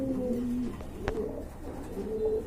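A pair of pigeons coo close by in soft, low, rolling phrases, with one sharp click partway through.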